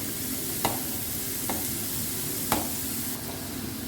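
Chopped onions fry in oil with a steady, close sizzle, broken by a few sharp scrapes as they are stirred.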